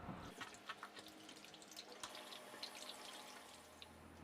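Squid being rinsed under a running kitchen tap after its slime is scraped off, a steady close wash of water with small splashes and drips, no voices.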